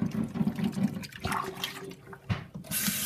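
Makeup brushes swished around in a basin of water with Dawn dish soap, close sloshing and splashing with soft clicks and knocks against the container, irregular and busy, with no speech.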